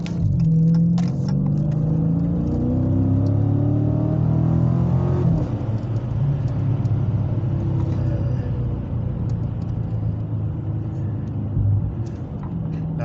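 A car engine drones steadily and loudly as the car drives along and takes a corner fairly quickly. The low engine hum holds level with slight pitch shifts as the car moves through the turn, and there is no talking.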